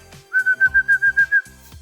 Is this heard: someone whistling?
yes